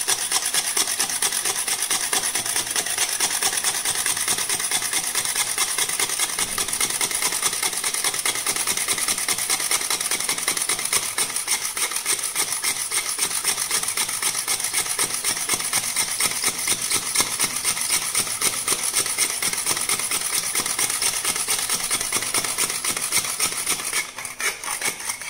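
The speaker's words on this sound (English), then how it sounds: "this is where it starts drilling the holes on the PCB" Drill bit boring holes in a printed circuit board for a DIY solar mobile charger, a continuous close buzzing grind with fast steady texture throughout, no talking.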